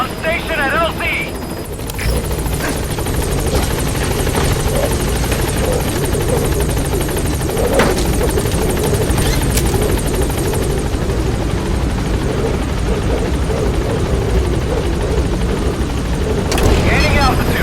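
A B-Quad helicopter in Metal Gear Solid V arrives at a landing zone, its loud steady rotor drone and engine roar filling the scene close up, with a brief radio voice near the start.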